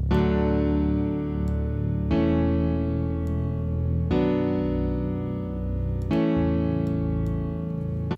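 Vocoded vocal chords with added reverb in FL Studio for a future house sample, sustained synthetic harmonies changing every two seconds, steady, full and close.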